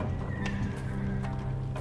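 Nervous horses in a stable whinny in the video game Secret Files 3, a loud close neigh with shaky trembling tone over a dense low rumble, lasting under two seconds.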